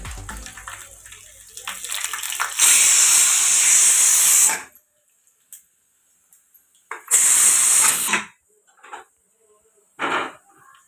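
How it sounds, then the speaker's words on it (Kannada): Spices for tempering hit hot oil in a pan, giving loud, close bursts of sizzling hiss, first a long one and then shorter ones, with brief quiet gaps between them. "ಇವಾಗ ಒಗ್ಗರಣೆ ಕೊಡಕತ್ತೀನಿ"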